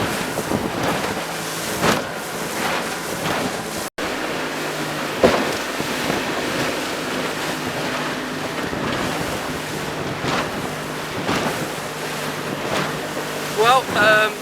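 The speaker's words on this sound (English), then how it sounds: "there was an almighty amount of wake off that pilot boat" A small Fletcher Arrowflash 15 motorboat on the Solent bounces across choppy wake from a pilot boat, with a loud engine drone, repeated thumping slaps against the hull, heavy wind buffeting and rushing water throughout.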